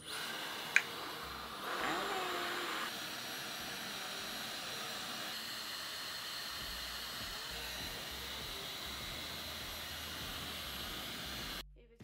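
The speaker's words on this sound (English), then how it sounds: "So I'm going to be blow drying my hair with the Dyson" A Dyson hair dryer blows on hair in a steady, continuous whooshing roar that holds for about ten seconds after a brief click, then cuts off abruptly.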